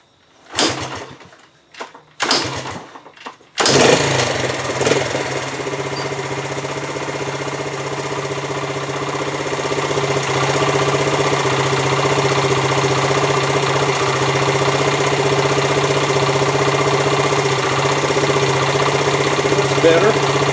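A Honda TL 125 motorcycle fresh from an ignition tune-up, with cleaned points, set timing and a cleaned carb, starts after a few cranking bursts and settles into a steady, close, even idle that carries on alone.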